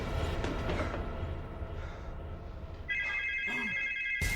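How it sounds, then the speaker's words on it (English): A telephone rings in a movie scene, a bright electronic trill starting partway through after low rumbling background noise, fairly loud and close with no talking. "The phone's ringing even though it's off the hook!"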